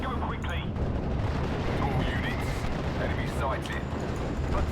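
Nebelwerfer rocket artillery barrage in Steel Division: Normandy 44, heard as a continuous dense rumble of explosions and firing that holds steady and loud throughout, with faint battlefield sounds layered on top.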